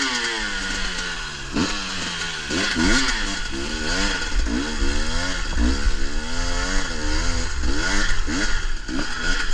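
A Husqvarna 300 dirt bike rides on studded tires, its two-stroke engine revving up and down in repeated rising and falling sweeps, loud and close with a steady gritty rumble underneath throughout.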